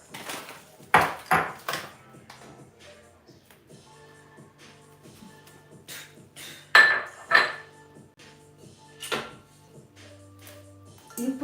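A metal pan is handled in a home kitchen, giving scattered clanks, clinks and ringing metallic knocks, some loud and close, spread across a quiet background with a faint steady hum.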